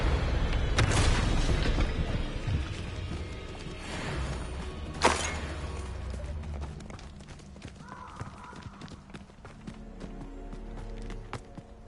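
In the video game Hogwarts Legacy, the Confringo explosive spell goes off in booming blasts, with a sharp burst near five seconds amid rumbling battle noise and hoof-like thuds.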